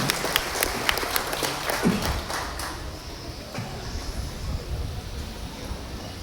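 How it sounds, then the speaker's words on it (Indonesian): An audience applauds at the morning opening of a festival in a cafe, a fast crackle of clapping that thins out after a couple of seconds into a noisy room with scattered voices. "Tepuk tangan untuk kita semua."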